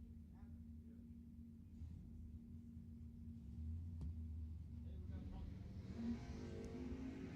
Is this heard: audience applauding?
no